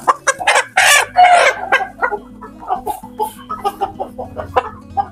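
Chickens cluck and squawk close by as a hen with fowl pox is caught, with a loud burst of agitated cackling followed by a run of shorter, rhythmic clucks.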